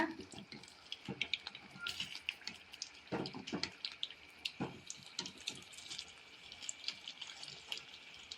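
Toor dal vadas fry in hot oil with an irregular crackling sizzle, close and moderately loud, with sharp pops scattered throughout.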